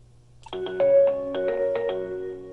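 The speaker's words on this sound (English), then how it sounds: "this allows me to go ahead and hear the different ringers available on the phone" Sample ringer tones on an Avaya J179 desk phone, several short electronic melodic notes in quick succession, clear and close, with no talking.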